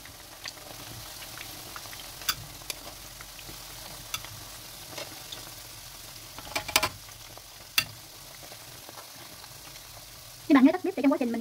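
Pork ribs fry in honey sauce in a pan, a low steady sizzle with scattered scraping clicks of stirring, then a louder burst of sizzling near the end.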